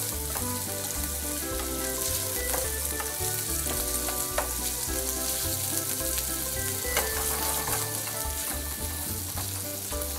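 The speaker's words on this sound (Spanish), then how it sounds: "Ahora echamos el bacon. Lo removemos para que se junte con la cebolla." Bacon sizzles and fries with onion in a pan, crackling steadily as it is stirred, with scraping and clinks throughout and no talking.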